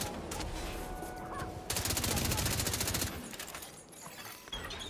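Sustained rapid gunfire from The Division 2, dense automatic bursts that swell louder midway, with faint background game sounds.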